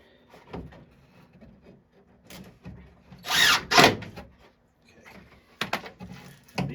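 A power drill drives screws into an arcade cabinet during a Kangaroo to Dig Dug conversion, with short bursts of whirring separated by pauses and quiet handling noises, fairly close.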